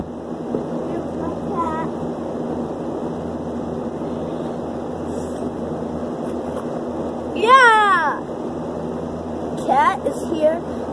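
A scared cat gives two loud, close meows, the second in a short broken series, over a steady background hum.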